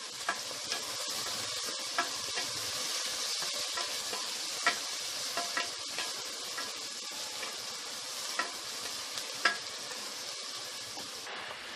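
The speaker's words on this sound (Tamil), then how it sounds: "வெங்காயம் போட்டுக்கோங்க." Onions frying in a pan for coconut milk pulav make a continuous hissing sizzle, steady and close but fairly quiet, with light scrapes and taps of stirring scattered through.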